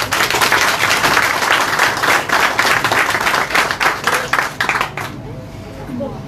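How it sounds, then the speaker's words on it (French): Applause in a hall for a guest speaker, a loud, dense clapping crowd with distinct sharp claps that thins out and stops near the end, after which a voice begins speaking. "nous pouvons l'applaudir."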